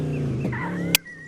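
A chicken, set loose to fly into the air, gives a short, close squawking call with a sharp flap or click near the end, then a quieter trailing note.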